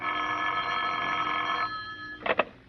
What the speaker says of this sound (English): The phone call came at 9:30.